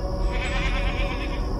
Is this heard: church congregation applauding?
no